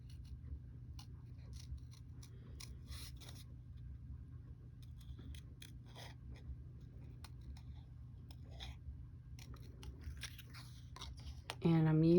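Scissors snip apart a paper flower cut from a stamped design for the inside of a handmade birthday card, a run of light, crisp cuts over a steady low background hum, faint and close, ending in a louder rustle.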